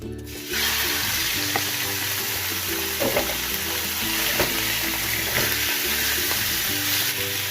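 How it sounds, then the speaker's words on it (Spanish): Chicken breasts dropped into hot oil in a pan, a sudden onset of loud, steady sizzling and crackling with occasional pops and small clatters, close up and without speech. "Voy a dejar caliente un poco para freír mis pechugas. Aquí voy a agregar mis pechugas."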